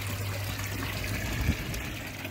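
Water from a pump trickles and splashes steadily into a small garden pond over staggered steps, a soft continuous dribble heard close, with one brief low bump near the end.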